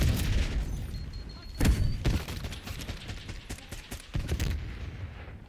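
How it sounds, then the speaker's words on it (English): Impact grenade explosion amid gunfire in Call of Duty Black Ops 6 multiplayer, a sharp booming blast followed by bursts of rapid shots and several further heavy bangs. "Impact grenade."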